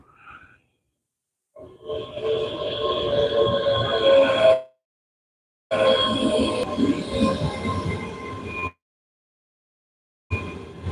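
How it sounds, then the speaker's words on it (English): A train rumbles and screeches into a station in Falkirk in loud bursts with gaps of silence, wheels squealing on the rails as it arrives. "I'll see this train go, then I'm getting out of here"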